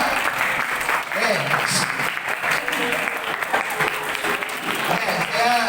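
Students clap together in a rhythmic classroom clap pattern, a dense steady wash of many hands that continues for several seconds with voices mixed in.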